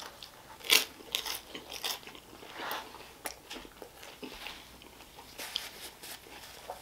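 Close, quiet biting and chewing of a sirloin Italian hot beef sandwich, with a sharp crunchy bite near the start and then scattered soft, wet chews and small crunches, without talk.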